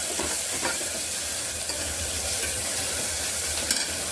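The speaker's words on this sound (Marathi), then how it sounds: "हे बघा मस्त पैकी ते हिरव्या मिरचीचं वाटण टाकलेलं आहे भात कांद्यामध्ये परतून घेत आहे" Rice with green chili paste and onions being sautéed in a pan for a spiced masala rice, with steady sizzling and scraping stirs throughout, close and continuous, no talking.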